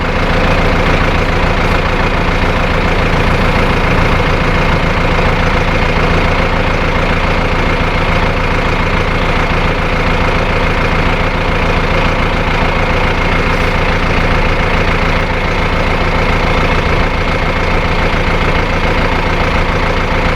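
Loud, steady chugging rumble of a tractor engine idling nearby on a Punjab farm, continuous and unchanging for the whole stretch.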